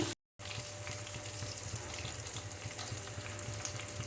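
Onions with salt sizzle in a pan for an Andhra-style uggani dish, a soft, steady hiss and crackle that runs on faintly after a brief dropout.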